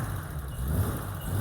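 A BMW E30 325i cabriolet engine with an aftermarket cam idles roughly with a miss, a low, uneven rumble close by over a brief stretch.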